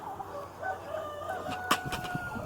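Hens cluck and murmur in short bursts nearby on a homestead as they are fed milo, with a sharper squawk partway through and faint farmyard noise behind.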